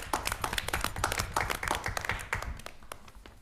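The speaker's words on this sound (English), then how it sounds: "I think we should just give staff a great big round of applause." Applause from a small group at a public library board meeting, a burst of hand clapping with irregular sharp claps that thins out toward the end.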